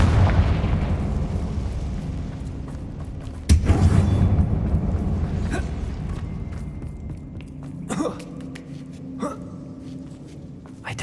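In Hogwarts Legacy, a Confringo fire spell goes off inside a dark mine that looks like a tomb, with one sharp, loud explosion mid-clip, then scattered smaller bangs and effects over a fading rumble of game ambience.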